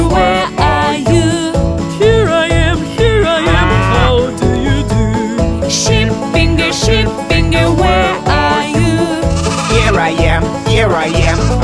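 A cow moos within a children's nursery rhyme song, blended into loud, steady music with a regular beat and sung vocals throughout.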